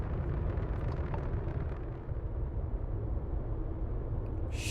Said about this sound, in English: Oh, and he exploded, of course.